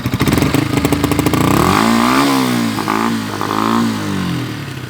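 A Yamaha MT-125 motorcycle fitted with a new exhaust line revs hard close by, a rapid pulsing blip rising into a sustained high-rpm howl that swoops up and down several times, loud and without talk.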